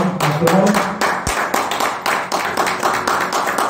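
Congregation clapping in a church service, dense rhythmic handclaps filling the room, steady and fairly loud throughout with no clear speech.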